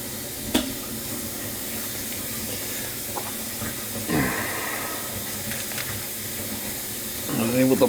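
Water from a faucet hisses steadily into a kitchen sink, with a few clunks and louder splashing bursts partway through and near the end.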